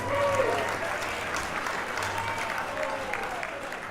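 Wedding guests at a reception applaud the father of the bride after his toast, a dense, sustained round of clapping from the room with faint voices and cheers mixed underneath.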